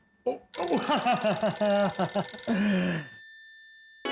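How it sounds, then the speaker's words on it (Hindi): A phone rings with a bright warbling melodic ringtone, loud and close, playing for a few seconds before stopping. "आपका फोन बज रहा है,"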